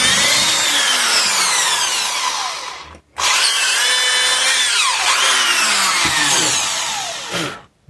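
Power drill bit boring through wood in a carpentry shop: a loud, close, rising motor whine with grinding bite, cut by a brief pause before a second long run that winds down.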